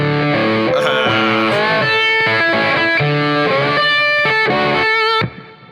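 Lap steel guitar in open D tuning plays a short, punchy riff with distorted tone, loud and close: choppy chords and sliding notes in a steady rhythm, ending abruptly near the close.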